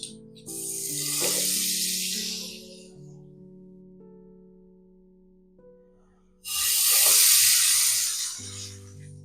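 Butter hits a hot frying pan for French toast, giving two separate swelling hisses of sizzling, the second louder, over soft background music.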